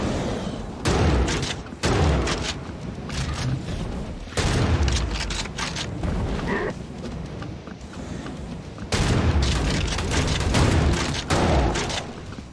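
A gun fires in Hellbound, a 90s-inspired indie first-person shooter. Loud shots come in repeated bursts separated by brief pauses, with no talking over them.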